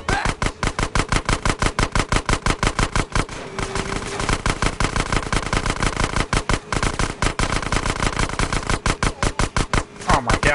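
Rapid automatic gunfire in GTA San Andreas on PS4, loud sustained bursts of rhythmic shots that pause briefly and then resume through the whole stretch, close and dense.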